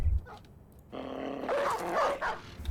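Dog barking in the video game Battle Brothers: a few short yelping barks at moderate volume, heard alone.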